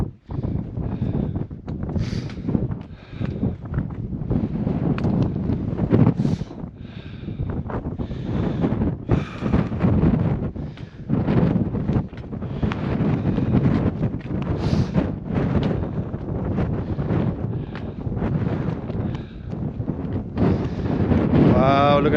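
Wind gusting across a February mountain hike near Beenoskee in Ireland, buffeting the microphone with a steady loud roar that rises and falls, while a hiker talks throughout.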